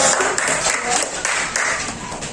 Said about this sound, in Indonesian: Beri tepuk tangan dulu untuk kelompok.